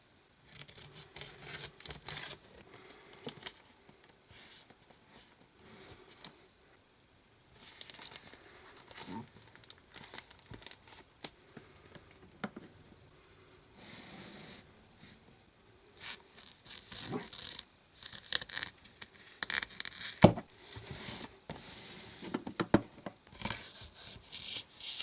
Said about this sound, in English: I'm just going to have to use a boring pair of standard scissors